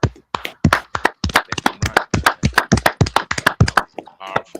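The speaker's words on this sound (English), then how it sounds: "Clap it up, clap it up" Audience clapping along at a brotherhood and sisterhood class gathering in Tampa, sharp rhythmic claps close by with voices speaking over them throughout.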